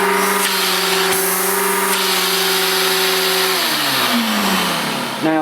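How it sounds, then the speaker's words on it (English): An Electrolux Airstream 1000 upright vacuum cleaner, rated 1000 watts, runs with a loud steady motor whine and airflow roar, its pitch sliding down near the end. "Now for a 1000-watt vacuum cleaner, that's pretty powerful."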